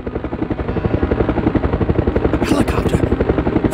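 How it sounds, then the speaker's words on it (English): A helicopter in the PS1 video game Resident Evil Survivor gives a loud, close, steady rhythmic rotor chop that pulses throughout, with voices briefly heard over it. "Helicopter!"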